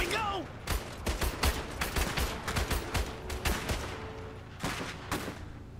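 Enemy units in Iron Harvest open fire in sharp, ragged bursts of gunshots, several clustered volleys close together with brief pauses between them and faint voices in the background.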